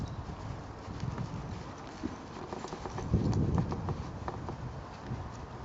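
Bay horse's hooves clip-clop steadily on the ground, close and moderately loud, with a heavier cluster of footfalls midway and light wind and bird sounds in the background.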